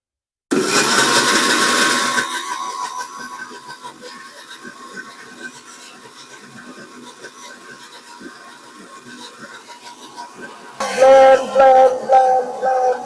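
An electric blender whirs loudly for a couple of seconds blending spices, then settles into a lower steady hum before surging into a harsher, louder grind at the end; no talk.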